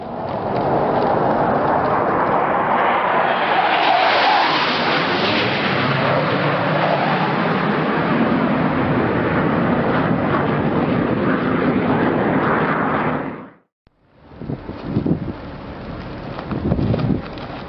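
Russian fighter jets flying low past a US Navy warship in the Baltic Sea, a loud rising and sustained jet roar with heavy wind buffeting, cutting off abruptly before resuming as rougher noise.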